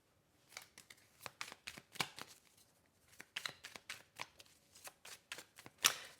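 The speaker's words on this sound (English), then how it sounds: "let's pull another card here" Tarot cards are shuffled by hand, giving a series of close, crisp riffling and flicking bursts in an uneven rhythm, with short gaps between them and one sharper snap near the end; no talk is heard.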